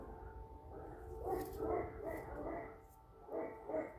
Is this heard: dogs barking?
yes